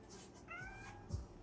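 A cat meowing indoors, a single faint drawn-out meow in a quiet room, with slight rustling around it.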